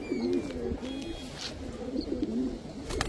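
A female Sapchila pigeon coos in repeated low rolling phrases, steady and fairly close, with faint background noise and no talking.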